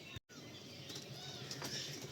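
Pigeons in a loft where birds are kept and bred, with soft cooing and a flutter of wings against a steady background hiss, broken by a brief dropout near the start; no voices.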